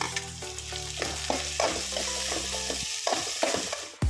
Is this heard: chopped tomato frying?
yes